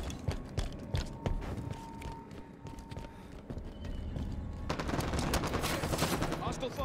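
Halo 5: Guardians multiplayer gunfire rattles in rapid bursts of sharp shots, dense and fairly close, over a busy game background that grows heavier toward the end.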